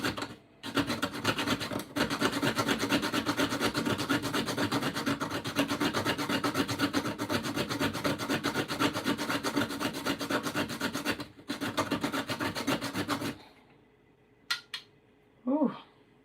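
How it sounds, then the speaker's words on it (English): Nutmeg grated by hand in a home kitchen during baking prep, a steady close rasping scrape that runs continuously for about thirteen seconds with brief pauses, then stops, followed by a couple of faint knocks and a short voice. "So I'm gonna be grating a bit of nutmeg."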